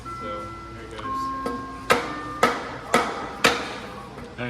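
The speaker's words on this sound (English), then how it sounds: "so we're gonna put the drum on backwards. We're gonna try and hit the axle out, see if we can break these free." A Ford F100 9-inch rear axle is struck to drive the axle out, with the brake drum mounted backwards: five sharp metallic bangs land about every half second, close and loud, and a faint ringing tone hangs between them.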